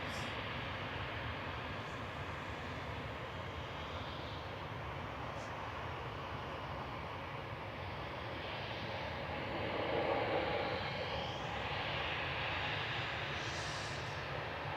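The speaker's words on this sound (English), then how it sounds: "EasyJet's heading back to Malaga with flight 7002. This is OE-LQE, an A319." An EasyJet Airbus A319, registration OE-LQE, departing Manchester Airport for Malaga gives a steady, fairly faint broadband jet roar that swells slightly near the end, heard alone without talk.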